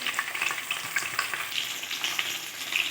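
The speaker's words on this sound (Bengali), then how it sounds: "মাছটা দিয়ে দিয়েছি কড়াইয়ের মধ্যে," Chitri fish frying in hot oil in a wok gives off a steady, dense sizzle with crackly pops throughout. It sounds close and continuous, with no talking.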